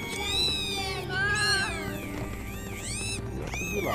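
A cat meowing in the Lego Harry Potter video game, several drawn-out, rising and falling meows in quick succession over a steady game music background, close and clear.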